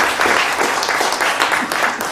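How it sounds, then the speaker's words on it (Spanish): Audience applause in a hall before a speaker introduces a guest at a poetry and book event, steady broadband clapping with a few louder bursts, close and continuous throughout. "Aplaudan si quieren, claro."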